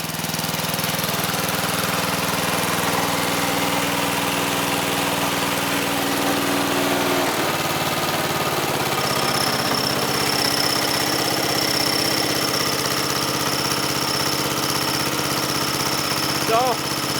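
A 12-horsepower Wizard riding lawn mower idles after a cold start, its steady, close engine drone running the whole time, with the low tone shifting partway through and no talk over it.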